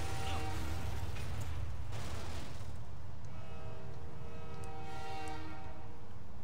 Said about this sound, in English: Okay, we have had a collision on the train.